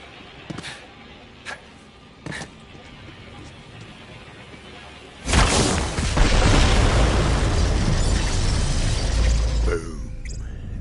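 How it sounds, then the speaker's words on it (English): In Borderlands 3, planted bombs go off in a forest: a few sharp pops first, then a loud booming blast that rumbles and crackles with debris for several seconds before slowly fading. "The explosion echoed through the forest"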